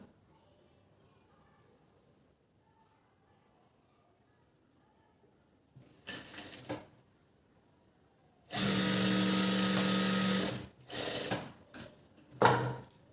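A sewing machine stitches the sleeve joint of a blouse in a quiet room, first in brief stop-start runs, then in a steady two-second whirring burst followed by short choppy stitches.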